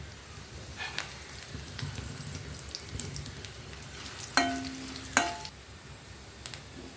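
Dried red chillies sizzle in hot oil with cumin, urad dal and chana dal as tempering for a mint coconut chutney, a steady soft frying hiss with a few sharper crackles and a brief tonal ring midway.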